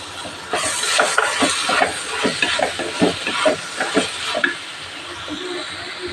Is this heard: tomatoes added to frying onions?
yes